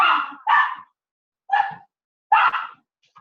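A couple of household dogs bark in four loud, close, separate bursts with short pauses between them, heard without any talking.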